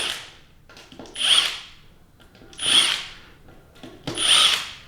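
Three bursts of a power tool whirring over the screws of a NAG1 transmission bell housing, each rising and falling in a loud whine with short quiet gaps between, close up and without talk.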